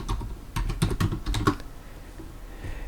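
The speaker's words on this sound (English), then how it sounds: "just type SumProduct" Keys clatter on a computer keyboard as a function name is entered into an Excel spreadsheet, a quick close burst of several taps over the first second and a half, then a quiet room.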